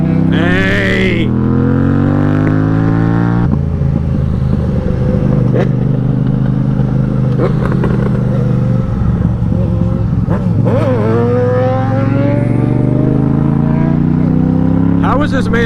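A GSX-S 750 or FZ-07 motorcycle engine revs hard through a wheelie, loud and close, with rising and falling pitch and gear shifts across the whole stretch, while excited voices shout over it.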